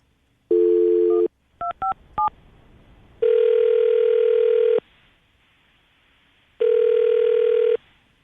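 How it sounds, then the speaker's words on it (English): Telephone keypad tones beep for a few short presses, then long ringback tones repeat with pauses between them as an outgoing call waits to connect. The signal sounds loud and clean, with no voices. "We're going to call him right now."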